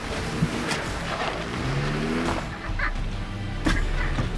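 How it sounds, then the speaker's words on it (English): Off-road vehicle in 4-low, first gear, climbing a rock ledge: a steady engine drone under light throttle, with low rumbling and a brief rise near the end, heard close with no talking. "So I'm gonna give it a little bit of throttle, see if I can get a little bit of a shakedown to see how things feel."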